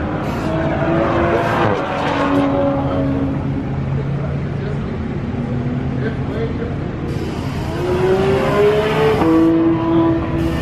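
A Toyota Supra engine at a race track, droning steadily with rising and falling pitch sweeps as the car revs and passes, fairly loud and continuous, with other car noise and some talk mixed in.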